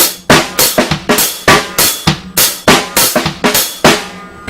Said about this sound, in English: Add the bass in there whenever you've got that down pat.